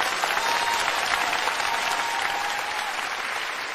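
Sustained, dense applause from a large studio audience at a stage comedy sketch show keeps going evenly, loud and close, with no talk over it.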